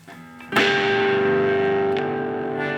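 A crunchy, distorted electric guitar chord through a Marshall MG15FX amp's crunch channel is struck after a brief quieter phrase and rings out, sustaining with a slight fade.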